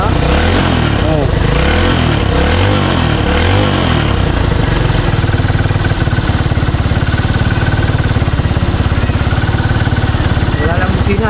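A motorcycle engine idles loudly and close by, with a steady throbbing rumble and slight revving fluctuations throughout.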